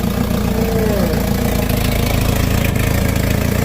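A houseboat engine runs rough and low, a loud, steady idling rumble with an uneven, labouring texture, close by and continuous throughout with no talk over it.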